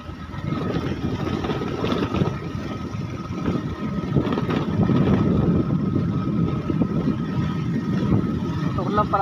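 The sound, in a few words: motorcycle engine on mountain trail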